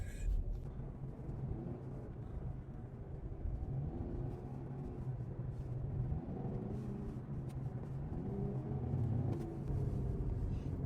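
Cold 2.0-litre diesel engine of a 2016 VW Golf Alltrack Highline 4Motion with 223,000 km, running at low steady revs as the car turns around, a continuous close rumble with a slight rise and fall in engine load.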